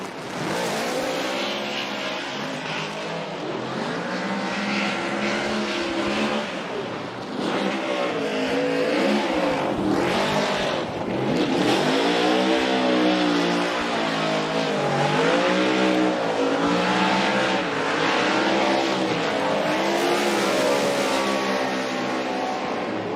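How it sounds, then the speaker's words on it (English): Pennzoil Mustang RTR Spec 5D drift car at a Formula Drift Atlanta pro competition, engine revving hard and wavering continuously with tire squeal, loud and sustained throughout with no talk. "his Pennzoil Mustang RTR Spec 5D"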